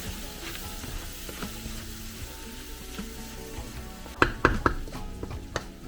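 Pork sisig sizzles in a pan while being stirred, a steady frying hiss with soft scraping, then a few sharp metallic knocks of the spatula against the pan near the end.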